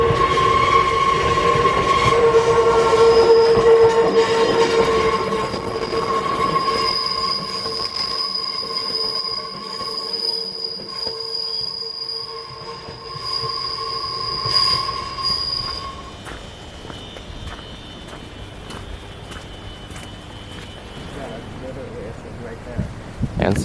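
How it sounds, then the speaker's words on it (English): A northbound mountain train in Hakone rolls on after a switchback, its wheels squealing loudly and steadily against the curving rails for a long stretch, with rumbling carriages and people talking at times. "After switching sides, the northbound train is continuing."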